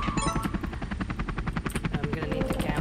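A helicopter power-up whirs in the Marble Blast video game, a rapid synthetic rotor chop pulsing evenly and loudly throughout, close and continuous with no talk over it.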